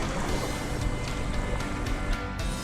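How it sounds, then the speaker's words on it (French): A river rapid in Norway, heard from a packraft on the water, gives a continuous broadband rushing roar of churning whitewater, close and steady with no voices over it. "on entend le gros rapide qu'il faut esquiver"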